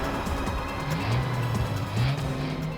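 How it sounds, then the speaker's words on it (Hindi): A car in a police drama drives and swings around in a turn on a road, a steady engine rumble with rising and falling tone, fairly close and continuous with no talk. "गाड़ी घुमा लो सचिन।"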